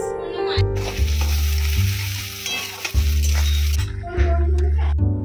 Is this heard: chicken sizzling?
yes